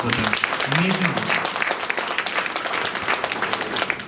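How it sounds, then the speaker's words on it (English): Audience applause at a Christmas celebration and art and craft exhibition, a sustained crowd of hands clapping with a brief whoop or voice near the start. "can we just have one more round of applause for them?"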